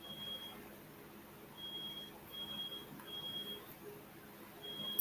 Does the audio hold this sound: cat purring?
no